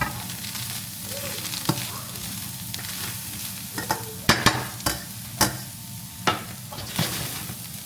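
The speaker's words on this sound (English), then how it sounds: "Get it simmering till it thickens." Sauce simmering and sizzling in a pan over medium heat, a steady soft bubbling bed broken by occasional sharper clicks and utensil scrapes from stirring, close and moderately loud with no talking.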